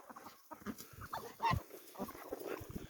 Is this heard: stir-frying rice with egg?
no